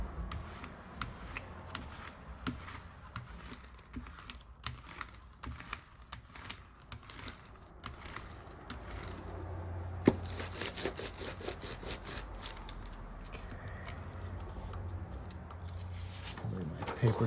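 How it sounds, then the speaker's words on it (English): Paper burnished by hand onto an inked printing plate gives a steady run of close, dry rubbing and rasping strokes, repeated in a scratchy rhythm with occasional sharper scrapes. "once I am done burnishing this down onto my plate"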